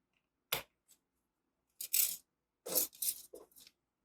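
A few small metal pins clatter and drop into a small blue plastic container in separate bursts, fairly close, with quiet gaps between them and no talking.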